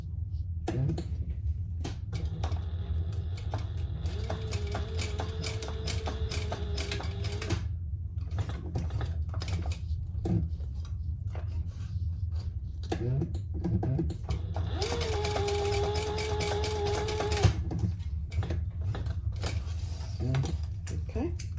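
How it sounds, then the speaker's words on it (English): A sewing machine stitches rows along a dog collar in steady close bursts of rapid mechanical whirring and clatter, pausing and restarting. Talk runs quietly over the stitching. "I'm going to do 2 rows of stitching."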